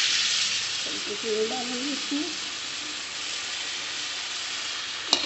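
Tomato, garlic and spices fry in a pan for a potato and cauliflower sabji, giving a steady close sizzle throughout while a person speaks briefly over it.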